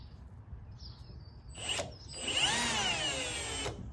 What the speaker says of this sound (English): I recommend using a step drill bit for putting holes in sheet metal.